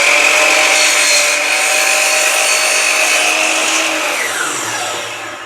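Trimming blemishes off a piece of cherry wood for a spice box with a power saw, one loud continuous whine that holds steady and then winds down at the end.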